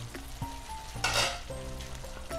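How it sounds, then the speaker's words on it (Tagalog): Butter garlic shrimp bubbling and sizzling in a pan, a soft steady frying hiss with a brief louder burst of sizzle midway and light clinks of a utensil. "kumukulo na siya"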